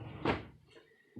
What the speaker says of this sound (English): The door was open, so I just shut it.